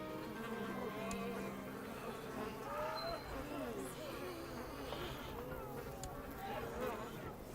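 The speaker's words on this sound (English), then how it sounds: "that buzzing is pretty grotesquely irritating" Insect buzzing from the Crusader Kings 2 strategy game, a steady droning hum that runs unbroken throughout at moderate loudness with faint fluttering variations.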